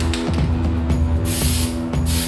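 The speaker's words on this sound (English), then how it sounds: "Now I'm spraying them both with a couple thick coats of an automotive grade undercoating" Automotive-grade undercoating sprayed in thick coats onto homemade rocker panel splitters, a steady close hiss with short bursts as the spray is triggered on and off, over a low background hum.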